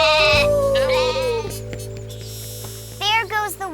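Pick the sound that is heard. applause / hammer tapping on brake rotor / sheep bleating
sheep bleating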